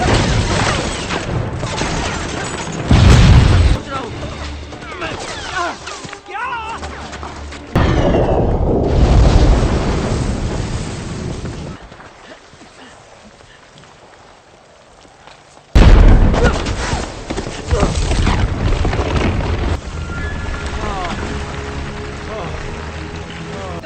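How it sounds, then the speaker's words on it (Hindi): Sharp bursts of gunfire and booming explosions in a war film, loud and close, separated by quieter stretches with a brief low lull in the middle. "हम पर गोलियां चल रही हैं।"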